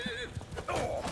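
A horse whinnies and snorts in Bannerlord, a near, fairly loud neigh with hoof and battle noise around it, heard without speech.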